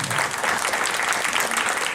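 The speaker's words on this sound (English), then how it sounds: "Would you please stand up so we can give you a round of applause?" An audience at an event gives a round of applause, a dense steady patter of many hands clapping together, close and continuous for the whole stretch.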